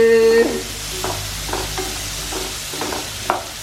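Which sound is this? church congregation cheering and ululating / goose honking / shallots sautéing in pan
shallots sautéing in pan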